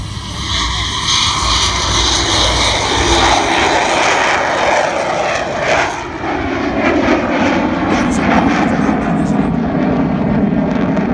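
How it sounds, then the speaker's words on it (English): A loud U-2 aircraft engine roars steadily during landing, dipping briefly before surging again as it powers up, with a broad rushing drone throughout. "you're going to hear that engine again pop in again to power up"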